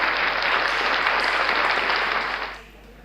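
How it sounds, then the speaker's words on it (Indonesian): A crowd applauds with a dense, even clapping that holds steady and then fades out toward the end. "tepuk tangan yang meriah untuk juara pertama"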